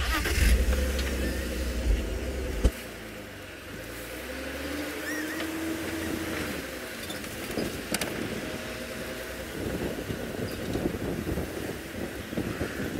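Steady, roaring wind buffets the microphone throughout during an outdoor safari, with a vehicle's low rumble underneath and occasional gusty swells.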